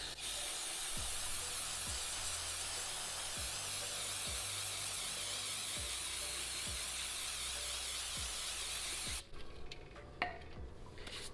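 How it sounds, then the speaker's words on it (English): Brake cleaner sprays steadily from an aerosol can in a loud, continuous hiss lasting about nine seconds, with a low rhythmic knocking underneath, before stopping abruptly into quieter handling sounds. "Let's throw a little bit of brake cleaner on there."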